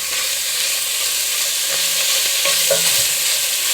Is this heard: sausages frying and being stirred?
yes